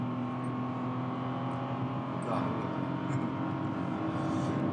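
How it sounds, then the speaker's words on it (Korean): Engine of a Kia The New Ray light car driving on a mountain road, a steady humming drone heard from inside the cabin with constant loudness and no talking. "엔진 사운드 자체도."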